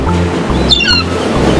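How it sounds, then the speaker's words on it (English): Seagull call: a short squawking cry with a harsh, bright tone, heard once near the middle and close up, over a steady low rumble of waves and surf. "Seagull,"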